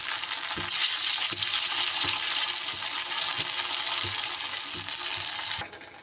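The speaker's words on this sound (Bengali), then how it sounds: "এবার আমি তেলের মধ্যে বড়াগুলো এভাবে ভেজে নেব" Neem leaf fritters fry in hot oil, a loud, continuous bubbling hiss that swells as they drop in, with a regular series of soft knocks underneath.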